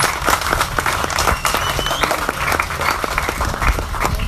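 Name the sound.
crowd applause at a political rally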